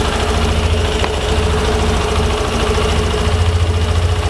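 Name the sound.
car engine idling around 1600-1700 RPM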